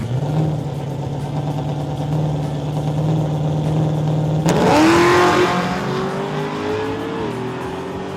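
A drag-and-drive truck engine idles with a low steady rumble, then is abruptly revved hard at mid-clip, rising to a louder roar that settles into a higher held drone.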